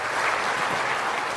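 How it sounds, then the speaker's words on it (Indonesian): An audience applauds at a national working meeting of the Indonesian land ministry, with steady dense clapping from a large crowd filling the room continuously, loud and close, with no pauses. "Berikan tepuk tangan untuk Bapak Mentan kita."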